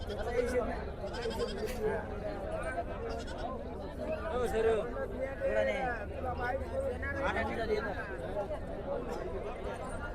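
Several goats bleat again and again at a goat market, wavering calls rising over a busy crowd of people talking nearby.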